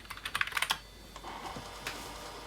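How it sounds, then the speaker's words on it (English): Someone types a password on a computer keyboard. A quick, close run of rapid keystrokes is followed by a few slower, spaced taps and then quiet. "So now flash, type my password"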